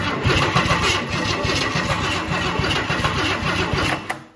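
Engine of a 1969 Ford F350 Camper Special cranks steadily when wired straight to the battery, a loud rhythmic churning that runs for about four seconds before cutting off.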